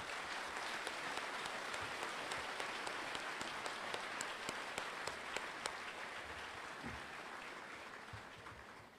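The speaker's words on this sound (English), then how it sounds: "Please join me in a round of applause for our soldiers" An audience at an Army basic training graduation ceremony at Fort Jackson applauds the soldiers, drill sergeants and cadre, a steady, somewhat distant wash of clapping that holds for the full span and tapers slightly at the end.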